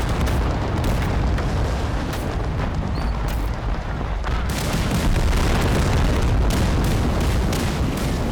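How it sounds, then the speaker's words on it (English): Artillery-like booms and rumbling explosions fill a Total Conflict: Resistance battle, loud and continuous with sharp bursts, as an RPG rocket fires and detonates amid heavy combat noise. "Oh my god, RPG's firing at me."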